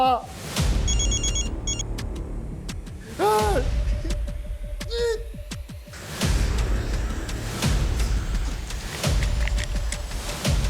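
A telephone rings repeatedly in regular bursts while someone talks anxiously over the ringing.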